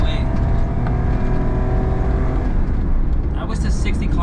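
A Honda Street kei van's small engine revs hard as the automatic kicks down a gear, a steady strained drone with a rising whine, loud and close from inside the cab, with a voice briefly over it near the end.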